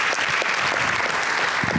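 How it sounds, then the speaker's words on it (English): Sustained audience applause for a film panel, steady and dense throughout this short stretch with no talk. "Can we clap one more time?"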